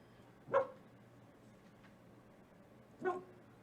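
A dog barks twice, a few seconds apart, indoors and fairly faint, with quiet background hum and no talk over it.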